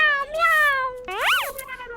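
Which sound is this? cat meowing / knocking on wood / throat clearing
cat meowing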